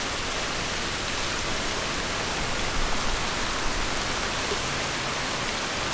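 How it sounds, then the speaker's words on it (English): A steady, dense hiss of heavy rain pours down without pause, a constant wash of noise with no voices. "That is some rain!"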